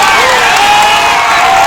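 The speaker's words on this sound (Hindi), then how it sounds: "राजपाल यादव जी के लिए ताली बजाएंगे ना सब लोग?" Crowd clapping and cheering for comedian Rajpal Yadav at a Dev Deepawali festival gathering at Sheetla Dham Chaukiyan, Jaunpur; dense, steady applause from a large audience fills the whole short stretch.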